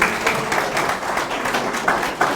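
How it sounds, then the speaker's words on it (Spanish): An audience at an electoral reform training session applauds the fifth speaker, a dense, steady burst of clapping from many people, fairly loud and close. "Un fuerte aplauso para nuestro ponente el día de hoy, nuestro quinto ponente."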